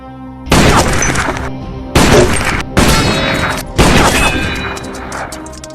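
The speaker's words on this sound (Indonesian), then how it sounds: "Zarin lalu menembak seluruh target secara tepat sasaran" Sniper rifle shots hit targets in an Iranian film: four loud, separate blasts, each with a long ringing decay and crashing impact, with no talk.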